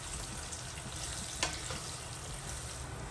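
Caramelized plantain soup bubbles and sizzles quietly in a pot, a soft steady hiss with one brief scrape of a stirring spoon.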